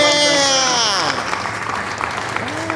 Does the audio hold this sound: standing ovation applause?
yes